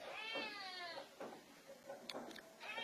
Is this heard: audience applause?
no